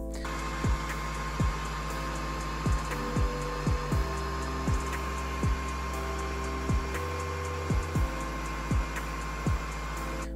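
xTool D1 Pro 10 W diode laser engraving and cutting a wafer biscuit, a steady fan-like hum with evenly spaced faint ticks as the head moves, constant and close, no talk.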